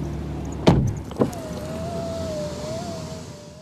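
A white BMW i8 coupe door shuts with a solid thump, followed by a second lighter knock and then a steady, fairly quiet motorised whine.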